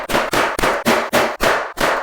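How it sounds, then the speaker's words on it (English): Big nail gun driving nails into a closet shelf, seven rapid sharp bangs in quick succession, loud and close with no talk. "I am just going to use the big nail gun and then just nail it in"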